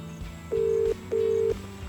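Ringback tone on an outgoing phone call: two steady electronic rings, each about half a second long, separated by a short pause, quiet and close.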